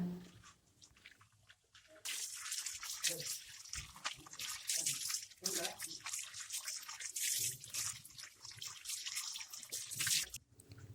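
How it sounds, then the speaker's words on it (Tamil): Raw chicken pieces are rinsed and swished by hand in water with turmeric, giving close splashing, dripping and sloshing that runs fairly continuously, with a quieter stretch at the start. "மஞ்சள் போட்டு நல்லா அலசிக்கலாம் ஒரு தடவை"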